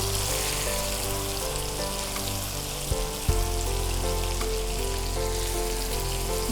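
Chicken pieces shallow fry in a little oil with a steady, dense crackle and sizzle close by, a faint clunk midway, and no voices.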